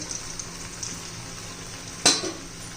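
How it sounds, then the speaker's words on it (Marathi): Kothimbir vadi, coriander fritters, fry in hot oil with a steady close sizzle and crackle, then a sharp splashing burst partway through as more pieces go into the pan. "हे पहा उरलेल्या मी तळून घेत आहे."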